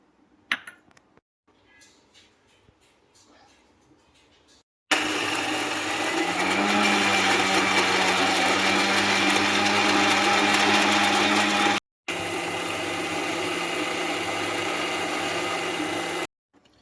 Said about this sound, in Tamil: இது அஞ்சையுமே சேர்த்து மிக்சியில் கிரைண்ட் பண்ணிக்கலாம்